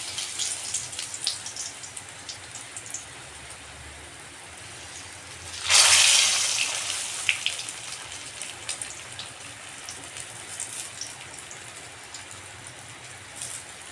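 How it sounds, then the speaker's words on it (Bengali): Spiced eggplant slices fry in hot refined oil with a steady, fine crackle like light rain. About halfway through, a louder hissing sizzle surges, then settles back to the constant spattering. "এবার মশলা মেখে রাখা বেগুনগুলো ভেজে নিচ্ছি।"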